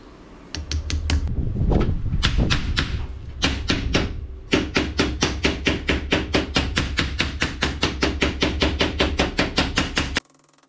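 An oil seal is tapped into place on a 1984 Bertone X1/9. A quick flurry of hits is followed by a long, steady run of evenly spaced, crisp metallic taps, close and loud, and then the tapping stops.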